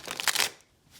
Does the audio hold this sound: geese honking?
no